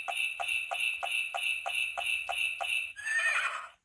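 A horse trotting through the woods, with eight evenly spaced hoof clip-clops and bright jingling bells in a steady rhythm, close and clear, ending in a short whinny-like burst.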